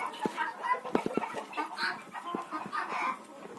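Chickens in a farm poultry yard shared with goats and a turkey give busy overlapping clucks and short squawks close by, with a few sharp knocks mixed in.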